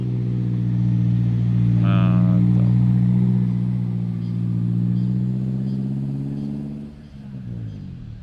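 A car strains up the steep Bukik Kapau hill road with its S-bend, its deep engine drone holding steady and swelling as it accelerates, close and loud, while people talk over it.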